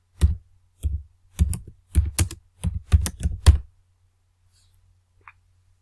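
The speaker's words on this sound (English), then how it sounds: "now you can type the name you want to type" Keys tapped on a computer keyboard while entering an Excel sheet name, nine close bursts of clicks over about three and a half seconds followed by near silence.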